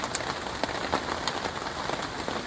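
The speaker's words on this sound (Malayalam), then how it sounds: "പുറത്ത് നല്ല മഴയാണ്. മഴയുടെ സൗണ്ട് നിങ്ങൾക്ക് കേൾക്കാമെന്ന് തോന്നുന്നു." Heavy rain falls outside a forest campsite, a dense, steady patter of drops on surfaces with scattered louder splats, continuous and close, with no voices.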